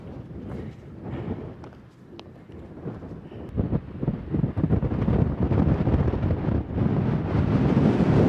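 Wind buffets and rumbles against the microphone on a mountain ridge along the Continental Divide Trail, a low gusty roar that swells and grows stronger toward the end, with no voices.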